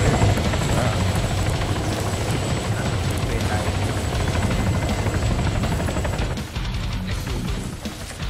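A helicopter in the video game ArmA 3 gives a steady loud rotor thumping and engine whine throughout, with players talking over it.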